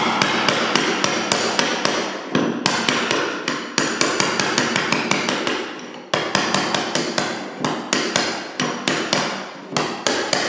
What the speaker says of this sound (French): Là, le burin a tendance à remonter.